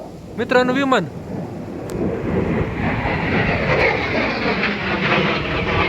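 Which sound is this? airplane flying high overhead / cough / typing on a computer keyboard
airplane flying high overhead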